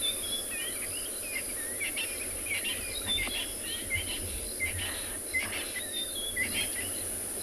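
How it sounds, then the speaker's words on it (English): A dusk chorus in the South African bush: a constant insect-like trill of frogs beneath scattered, repeated bird chirps and short calls, moderately distant and unbroken. "I can hear the frogs are waking up. The birds are doing their last chorus before roosting for the night."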